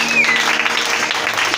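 A church congregation breaks into brief, dense applause that lasts a second or two, with voices mixed into the clapping.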